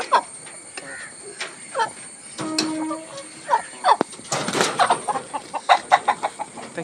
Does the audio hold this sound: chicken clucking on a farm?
yes